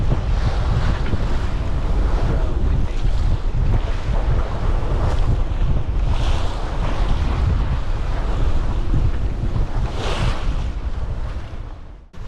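Strong wind roars across the microphone on a sailboat on the open Pacific, over the wash of waves and rushing water, loud and constant throughout.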